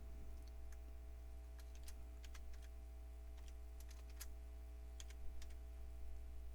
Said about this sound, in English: And then type in your password that you just saw earlier